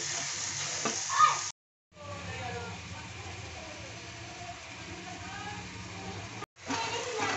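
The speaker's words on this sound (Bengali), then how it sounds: "ডিম আলু মশলা ভালোভাবে আমি কষিয়ে নিয়েছি বন্ধুরা।" Egg and potato curry masala being stirred and fried in a pan, a steady close sizzle with scraping stirs, broken by two short silent gaps.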